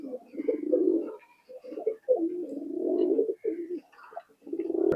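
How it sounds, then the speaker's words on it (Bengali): Pakistani high flying pigeons coo in a loft in a steady series of low, throaty calls close by, with brief pauses between bursts of cooing. "দেখেন কবুতর দেখেন"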